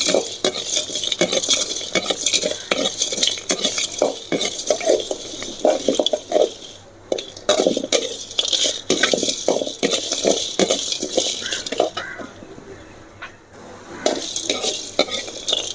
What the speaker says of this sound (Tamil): ஓமம் பெருங்காயம் நம்ம எல்லாத்தையும் ஒன்றா நல்லா வறுத்து